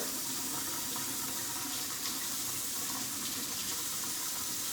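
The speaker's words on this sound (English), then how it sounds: "Straining that out a little bit." Hot cooked pasta being strained in a kitchen sink, with water pouring and splashing in a steady, continuous wash at close range, alone without talk.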